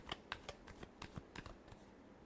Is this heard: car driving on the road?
no